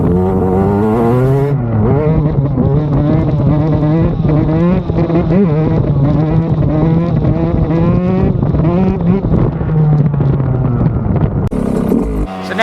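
A motorcycle ridden up into a wheelie gives a loud, steady engine roar that climbs and holds its pitch, with revs rising at the start and easing near the end.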